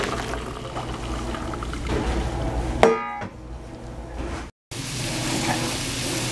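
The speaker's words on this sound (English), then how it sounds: "here I'm going to drain this water off into a bowl so I can show you what it looks like" Cooking water from boiled red beans poured off into a bowl, a steady splashing pour that ends with a clunk, then quieter handling sounds and a brief dropout.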